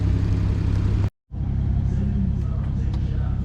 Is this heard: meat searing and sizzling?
no